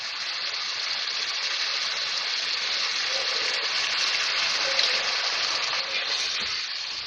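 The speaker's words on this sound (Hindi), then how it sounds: "क्वार्टर कप में इसमें पानी डालूंगी" Water pours steadily into a vegetable masala gravy in a pan, a continuous hissing gush mixed with faint sizzling, with no voices.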